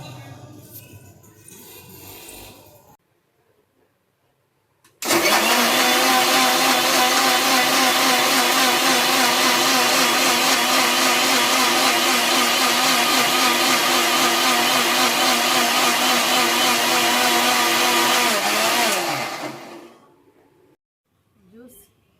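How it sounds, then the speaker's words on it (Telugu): A mixer grinder blends avocado with milk into a smoothie, starting abruptly and running loud and steady for about fourteen seconds with a high whirring whine before cutting off. Quiet talk is heard briefly before it starts. "ఇప్పుడు ఇవన్నీ మిక్సీ పట్టుకోవాలి"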